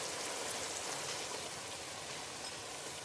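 Sherry bubbling in a hot pan with dark brown sugar, a continuous soft fizzing and crackling sizzle heard close up and alone.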